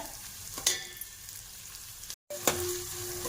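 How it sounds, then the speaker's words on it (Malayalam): Chopped onions sautéing in a pan for a Christmas lunch, a steady soft sizzle with a few sharp clinks of a spoon stirring against the pan and a brief dropout partway through. "ഉള്ളിയെല്ലാം വഴന്നു"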